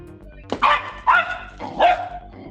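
A dog gives three sharp barks spaced about half a second apart, fairly close and clear over a faint low background hum.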